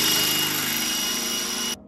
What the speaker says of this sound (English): that's just all weld now that I'm trying to drill through.